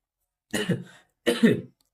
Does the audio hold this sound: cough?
yes